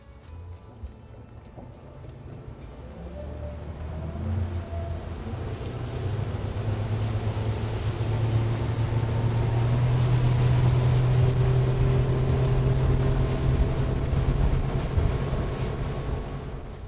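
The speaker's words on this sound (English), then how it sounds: "now we're going to go wide open throttle in a straight line" Boat fitted with a Lenco auto trim control system running wide open throttle in a straight line, a steady loud engine drone with rushing wind and water building over the run, no voices.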